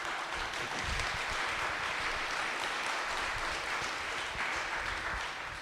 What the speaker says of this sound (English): please, let us give a round of applause to all panelists.